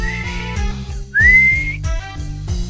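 A person whistles with the mouth alone, no whistle: a bright rising tone that glides upward and holds steadily for about half a second, loud and close, set against a steady repeating rhythmic background.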